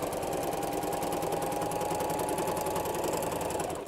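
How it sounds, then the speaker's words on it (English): A sewing machine stitches steadily across a quilted mug rug, its needle hammering in a fast, even rhythm at close range with no talk. "all I'm going to do is sew right across my mug rug"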